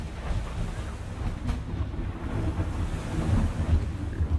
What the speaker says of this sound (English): The waves are too loud.